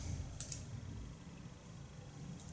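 Scissors snip hair during a salon haircut, giving a few faint, crisp clicks spaced apart over a low, quiet room background.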